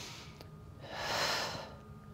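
A person doing a Pilates mat exercise with weights breathes audibly, one soft airy inhale and exhale that swells in the middle and fades, close and quiet.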